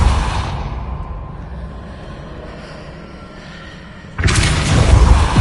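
A Depulso force spell in Hogwarts Legacy: a sustained, loud rumbling whoosh that eases off, then a sudden second blast strikes hard and keeps roaring at the end, with no voices.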